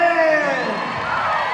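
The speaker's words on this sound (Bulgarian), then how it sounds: "Аплодисменти за Дени и за Алпер!" A crowd at a Bulgarian grand-final event cheers, whoops and shouts with children's voices mixed in, applauding the contestants Deni and Alper in a short, dense burst of excited noise.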